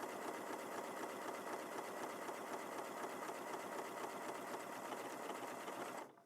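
A Janome Memory Craft 6700P sewing machine stitches a buttonhole, a steady rapid mechanical chatter heard close up and alone, stopping abruptly at the end.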